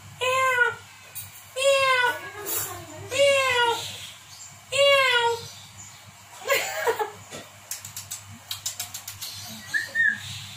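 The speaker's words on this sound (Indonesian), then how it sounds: "Kucing." A pet cat meowing in a home, four or five drawn-out rising-and-falling meows in a row, fairly close, followed by short chirpy sounds and faint background voices.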